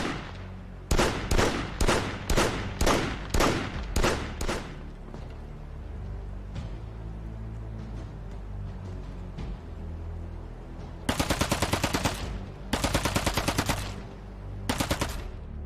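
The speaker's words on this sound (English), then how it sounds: "Shooting full auto will really throw your weapon off." Full-auto weapon fire in the video game PROJEKT Z crackles in loud rapid bursts, first a series of short sharp volleys, then a steady rumble, then longer sustained automatic strings near the end.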